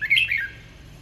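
A fighting songbird kept in a cage gives a single bright, squawky call up close, a sharp burst followed by a shorter trailing note, then quiet background.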